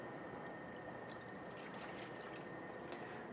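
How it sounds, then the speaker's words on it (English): Whole milk poured into a mixing bowl, a soft steady liquid stream for a few seconds, quiet and close, ending with a small knock. "in a second bowl, we're going to add 1½ cups of whole milk"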